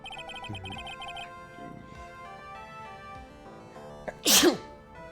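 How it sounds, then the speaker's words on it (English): A single sharp sneeze near the end, loud and close, following a few quiet seconds of soft tones. "Off-camera sneeze"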